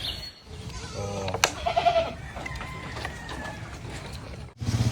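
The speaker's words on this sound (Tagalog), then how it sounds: "3 kambing sa isang inahin" Goats bleat several times nearby, with other farmyard animal noises mixed in.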